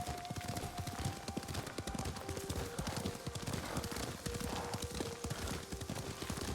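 Horse hooves pound in a fast, continuous galloping rhythm in the video game Ghost of Tsushima, close and steady throughout, with a faint sustained musical tone underneath.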